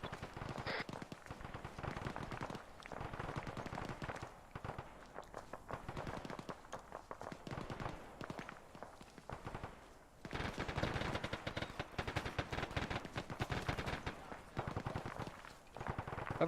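Sustained automatic gunfire in Arma 3 during a squad assault on a building's corner entry, rapid bursts running nearly nonstop, briefly easing before a louder, denser stretch of shooting.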